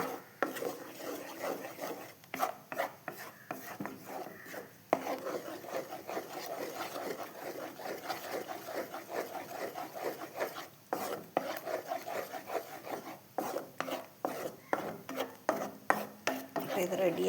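Pineapple being stirred in a pan while cooking down for a pineapple cake, giving steady scraping and rubbing strokes with light clinks of utensil against metal, close and continuous with no talk.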